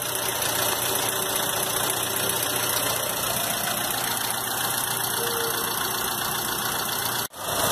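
A warm Volkswagen EA111 engine idles with a steady, even hum while the radiator cooling fan runs, the whole sound continuous and close, broken only by a brief dropout near the end.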